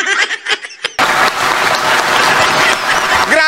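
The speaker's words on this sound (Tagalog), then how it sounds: "Grabing palakpak yun, ha?" Voices and a few scattered claps come first, then loud, sustained applause from an audience breaks out and keeps going in a thick, even roar of clapping to the end.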